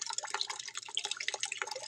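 A bathroom faucet drips steadily late at night into a bucket, a dense patter of close, bright drops with a low background hum.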